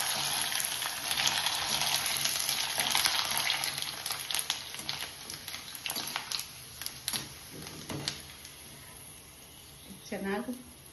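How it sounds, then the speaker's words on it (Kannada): Sabudana rice sandige dropped into hot oil, with a loud dense bubbling sizzle that gradually thins into scattered pops and crackles, with a few light utensil clicks and someone speaking briefly near the end. "ಈಗ ಎಣ್ಣೆಯಲ್ಲೇ ಕರಿಯೋಣ."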